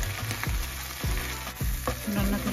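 Tuna fried rice sizzles and fries in a pan, a steady loud hiss broken by repeated scraping stirs of a utensil, with no talking.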